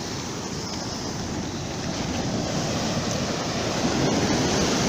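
Ocean waves crashing onto the edge of the beach at Ocean Beach, California, a continuous loud wash of surf that grows slightly toward the end, with wind buffeting the microphone.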